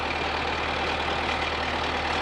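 A tractor engine idles in a woodlot while a road is being cleared, a steady low diesel rumble with an even, constant hum and no other sounds.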